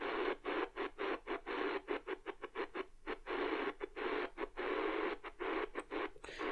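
Dense static chops on and off rapidly as a Radio Shack DX-390 shortwave radio dial is turned by hand, bursts of hiss broken by brief dropouts in an irregular rhythm.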